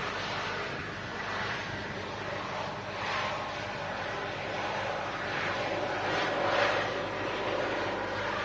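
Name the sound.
Transat Airbus A321neo landing at Manchester runway 23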